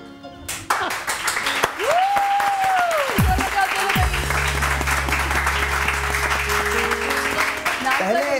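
Studio audience applause on a morning TV show, steady and loud from start to finish, with a tonal sweep and a low sustained hum mixed in partway through.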